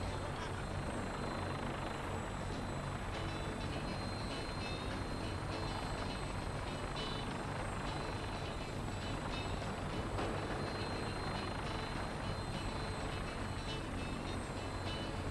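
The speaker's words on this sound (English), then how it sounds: "Get on that gunship, soldier. I want Fort Strong cleared and that stockpile secured." A gunship helicopter flies in the Fallout 4 video game, its rotor and engine making a continuous heavy drone that stays steady throughout.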